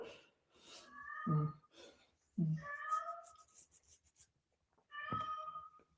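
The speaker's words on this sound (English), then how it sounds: "And our cat's crying." A house cat meows three times, close and clear, each cry drawn out and rising, with soft breathing between the calls.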